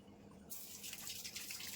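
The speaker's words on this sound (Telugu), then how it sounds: "ఇంకా వాటర్ క్యాన్స్ ఇంకా వాటర్ జగ్స్లోకి వాటర్ బాటిల్స్ ఇవన్నీ ఫిల్ చేసేస్తున్నాను." Tap water pours into cans, jugs and bottles being filled at home, starting suddenly as a steady hiss and splash that carries on alone at close range.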